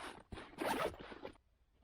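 Zipper on a padded drone carry case for an Eachine EX5 drone being pulled open in several quick, close strokes, a run of raspy zips followed by a quiet pause, with no talking.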